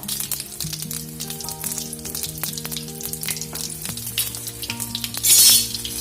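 Whole cumin seeds and slit green chilies frying in hot oil for an Assamese mutton curry, giving a steady close crackling sizzle with faint clinks of a stirring utensil.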